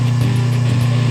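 An old electric motor salvaged from a scrapyard, its capacitor cut-out no longer working, hums steadily and loudly as it starts and runs, a continuous low drone with a faint pulsing rhythm and no voices.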